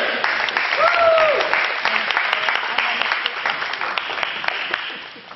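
A science quiz show audience applauds the top winners, with a steady round of clapping throughout, fairly loud and near, tapering off toward the end, with a brief whoop-like voice early on.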